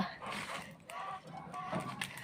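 Hens clucking and murmuring nearby at feeding time, a steady chatter of several birds with a few sharper calls rising above.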